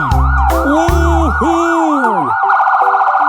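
A loud police car siren wails close by with rapid rising and falling sweeps, then shifts into a faster, higher yelp near the end.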